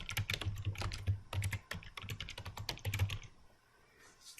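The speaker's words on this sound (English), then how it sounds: "here we want to type expense worksheet" Rapid typing on a computer keyboard, close and clear, a dense run of key clicks for about three seconds before trailing off into quiet.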